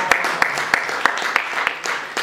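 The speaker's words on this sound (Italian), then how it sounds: "Un applauso agli organizzatori." Audience at an Italian commemorative gathering on the centenary of the Bolshevik Revolution claps for the organisers, sharp claps landing in a regular, steady rhythm over a soft murmur.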